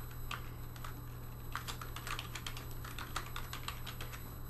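Keystrokes on a computer keyboard while naming a new project during a Visual Studio 2013 Express setup, a quick uneven run of clicks over a steady low hum, close and moderately quiet.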